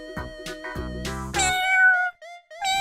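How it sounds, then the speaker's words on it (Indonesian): A cat meows several times in quick succession, clear and close, with tonal, wavering cries that rise and fall, one drawn out longer than the rest. "Kucing adalah hewan peliharaan yang sangat ramah dan lucu."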